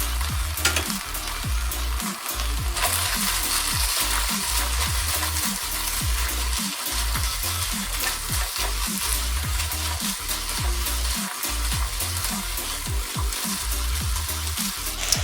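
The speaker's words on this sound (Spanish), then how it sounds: "Sean generosos con el aceite porque esto va a generar que se frían rico sus verduras" Vegetables frying in a generous amount of oil inside a covered pan give a steady, close sizzle that holds for the whole stretch, with faint scrapes of stirring now and then.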